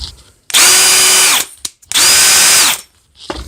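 A Parkside PPBSA 20 Li A1 brushless cordless drill driver whirs loudly up close in second gear in two sustained runs of about a second each, spinning up and winding down with a short pause between.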